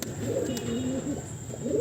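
A pigeon at a bird sale coos in soft, low, rolling phrases close by, repeated over a faint steady background.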